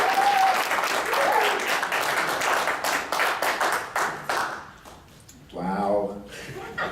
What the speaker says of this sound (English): please give a loud ringing applause for Joe Don Giovanni